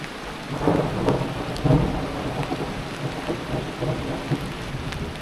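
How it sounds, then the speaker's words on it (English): Thunder from a storm over Black's Fork River rolls and rumbles through steady rainfall, several low swelling booms in a row with no talking. "them thunderheads are getting angry, making noises"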